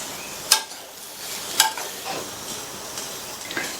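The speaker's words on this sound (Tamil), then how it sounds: "நல்லா ஒரு தடவை மிக்ஸ் பண்ணி விட்டுறலாம்." A spoon stirring eggplant masala curry, a Tamil-style podi-topped kathirikai dish with chopped coriander, in a pan off the heat, giving soft scraping with a couple of sharp clinks, close and without talking.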